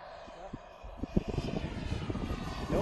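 Model F-104 jet aircraft passing during a maiden flight, a faint engine hum and rising squeal behind outdoor wind noise and thumps, fairly distant.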